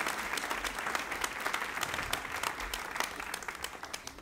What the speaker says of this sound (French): Est-ce qu'on peut l'applaudir encore bien fort?